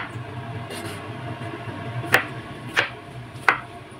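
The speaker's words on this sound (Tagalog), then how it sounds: "hihiwain naman natin tong sangkap natin" Three sharp knife chops on a board, cutting tomatoes and onions, spaced about a second apart, against a quiet room background with faint low hum.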